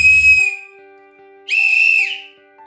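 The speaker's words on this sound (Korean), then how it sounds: "이렇게 직선으로 된 호루라기가 있는데 제가 한번 소리를 불어볼게요" Two loud, piercing blasts from a straight plastic safety whistle, each about half a second long and close up, separated by a quiet pause with a faint background tone.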